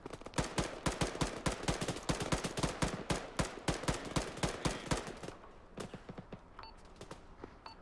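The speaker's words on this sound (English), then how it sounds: "Shoot it! I want everyone firing on it." Squad gunfire in the Arma 3 video game fires in rapid sharp bursts, many overlapping shots in quick succession that are loud and close, then thin out to scattered reports near the end, with no talk.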